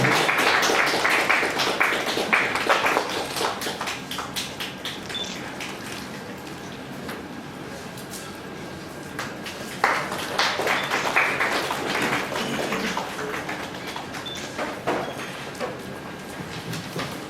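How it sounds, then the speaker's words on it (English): An audience claps in bursts, swelling, fading to scattered taps, then rising again into a second round of applause in a large room. "Round of applause, members."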